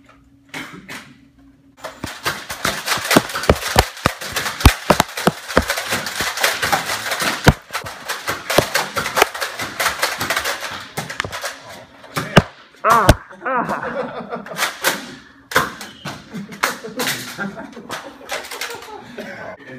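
Rapid plastic clicks and pops from a battery-powered toy gun being fired indoors at an office, in quick bursts mixed with laughter and chatter.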